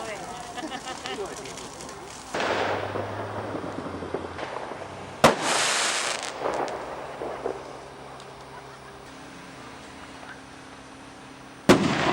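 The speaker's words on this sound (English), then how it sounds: "Another bonfire and firework night down here" Fireworks on bonfire night at an allotment site: a close, sharp bang and a later loud crack, with crackling bursts and fizzing between them over steady background noise, some of it distant.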